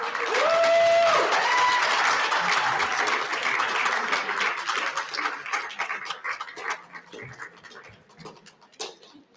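A graduation ceremony audience claps loudly and then gradually thins out into scattered claps, with crowd murmur and a brief tonal sound near the start.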